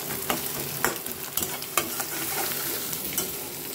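Boiled vegetables go into a hot pan for a Bengali duck curry, frying with a steady sizzle while a spatula scrapes and stirs in irregular strokes, close and alone with no voices.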